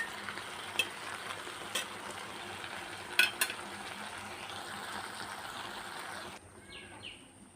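Aviyal simmering in a pot, a low bubbling hiss with a few sharp clinks of a utensil, fading toward the end.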